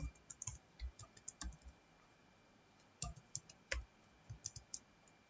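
Quiet, close clicking of a computer keyboard while an HTML program is typed in Notepad, with irregular clusters of sharp keystrokes separated by short pauses.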